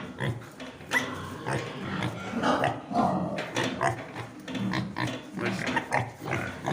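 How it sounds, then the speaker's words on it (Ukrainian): Steady snuffling grunts from pigs close by, continuing throughout with irregular bursts and no clear talking. "оці свинки в мене з-під Optimus"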